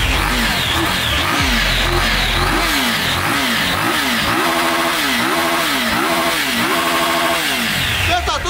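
A three-cylinder motorcycle engine revs repeatedly up and down in quick blips, loud and close, its pitch sweeping in a rhythmic series of sharp rises.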